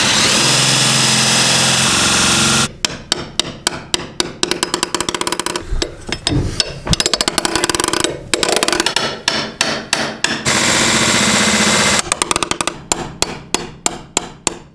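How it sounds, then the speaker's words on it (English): A power drill bores holes for a washing machine drain line on a farm, heard as loud, rapid rhythmic bursts with short pauses between runs, following a steady engine-like hum at the start. "This is where the washing machine drain line is going to go, so we're gonna start by doing some drilling"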